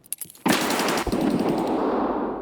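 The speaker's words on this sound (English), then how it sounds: "He shot me." Escape From Tarkov gunfire: after a few quiet taps, a loud burst of rapid automatic shots breaks out and keeps going as a dense, near barrage, with one sharp heavier crack partway through.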